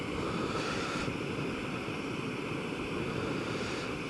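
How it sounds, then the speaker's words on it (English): Strong wind on the South West Coast Path roars steadily across a microphone fitted with a furry windshield, a broad blustery rush with surf-like swells, no voices heard. "there's an awful lot of wind at the moment"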